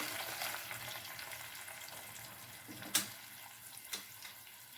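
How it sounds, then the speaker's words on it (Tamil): Steady sizzling and frying fill a kitchen as water is added to ground tomatoes in the pan for rasam, with a couple of clinks from a utensil stirring. "தண்ணி கொஞ்சம் சேர்த்துக்கோ"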